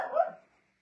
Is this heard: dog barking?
yes